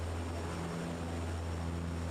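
Propeller airplane engine in Microsoft Flight Simulator 2024, a steady low droning hum with a tonal buzz, faint and unchanging across a couple of seconds with no talk.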